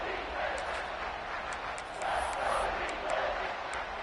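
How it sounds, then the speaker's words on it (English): A stadium crowd in a football video game roars steadily through the final minute of a close game, a broad, continuous swell of cheering with no break. "The crowd is really getting into it."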